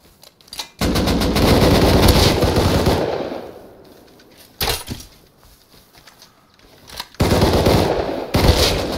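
Rapid automatic AK rifle fire in the modded survival game Rust, loud sustained bursts separated by quieter gaps, with sharper isolated shots between volleys.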